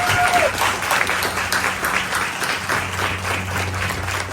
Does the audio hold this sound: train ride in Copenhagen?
no